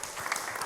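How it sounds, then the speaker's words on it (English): Short burst of audience applause following a speech at a church teaching session, a soft, even patter of many hands clapping at a moderate distance. "Give him a round of applause."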